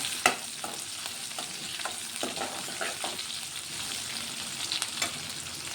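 Cumin seeds and garlic fry in oil in a pan, crackling and sizzling steadily up close while a spoon stirs and scrapes at irregular intervals.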